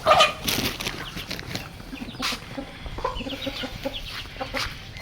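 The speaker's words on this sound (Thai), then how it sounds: "อันนี้เป็นตัวไก่อยู่คอกเนาะทุกคน" A rooster and a hen clucking close by in a pen, with a brief flutter of wings and steady low cackling throughout.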